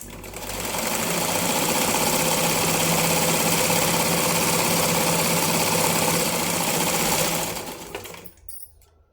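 A sewing machine runs fast and steadily while stitching a lined blouse, giving a loud, close, continuous mechanical whir for about seven seconds before it stops abruptly.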